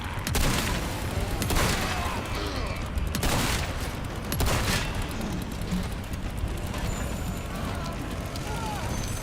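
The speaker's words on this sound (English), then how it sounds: "Good thing I've still got my shotgun." Video game shotgun fire: several loud, booming blasts a second or so apart, close and heavy, with a muffled game soundscape continuing between shots.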